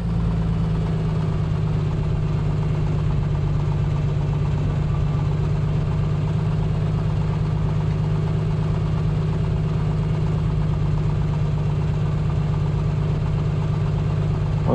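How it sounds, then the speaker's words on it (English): A Piper Comanche light aircraft engine idles at low revs during warm-up before the run-up, a steady, loud, unbroken drone with a constant low hum throughout. "Obviously we're not running very high revs or anything yet, so the run-up should help a bit with warming things up."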